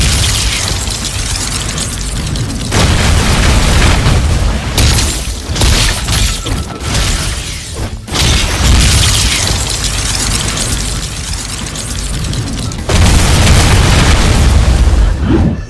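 Booming game ability effects for the Divine Weapon move: loud, sustained roaring blasts with shattering crashes, broken by short dips and a sharp cut near the middle, then a final heavy surge, with no voices.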